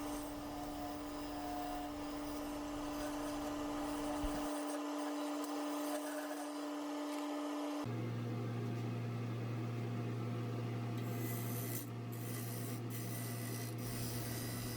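A lathe spins a maple bowl while a chisel scrapes and rubs against the turning wood. The motor gives a steady hum under the continuous cutting noise, the pitch shifts partway through, and no one speaks.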